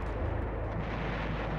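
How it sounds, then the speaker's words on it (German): Explosions in the video game Eternal Darkness, set during the world wars, make a loud, continuous low rumble of blasts that fills the moment without letting up. "Es kommt einem fast vor wie Silvester, würde es nicht so riesig explodieren."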